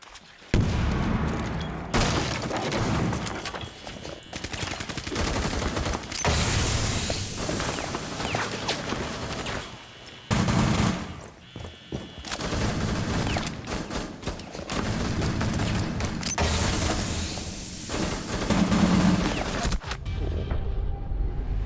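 Rapid MP5K gunfire rattles through a tactical shooter match in long, dense bursts, with near-constant shooting, short gaps and scattered booms over about twenty seconds.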